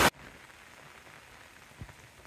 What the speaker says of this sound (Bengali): দেখেন কিরকম বৃষ্টি, পুরা মাঠ ভর্তি পানিতে থই থই করতেছে।